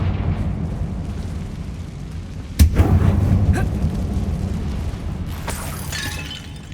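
A Confringo fire spell detonates in Hogwarts Legacy with one sharp, loud blast that decays into crackling rumble, followed by fainter bursts and sparkling noise a few seconds later.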